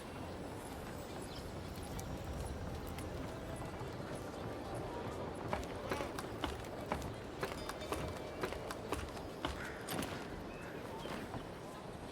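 Footsteps in the video game Avowed, a quick run of light, evenly paced steps growing more distinct in the second half over a dense ambient bed, with in-game voices talking.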